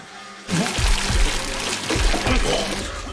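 Water is poured over a captive in a torture scene from a TV drama. A loud, splashing pour starts abruptly and keeps going, with voices heard over it.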